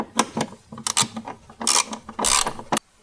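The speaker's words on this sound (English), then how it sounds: "Hold it in place and we do up the nut." A nut being tightened on a Suzuki Jimny JB74 gear selector, with several close ratcheting clicks in short bursts broken by brief pauses, fairly loud and without speech.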